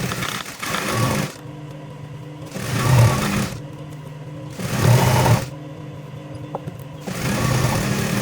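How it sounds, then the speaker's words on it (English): A sewing machine stitches a synthetic wool cape in several bursts of steady whirring, separated by short pauses. It is close and loud, with no talk. "So I'm going to sew that up now."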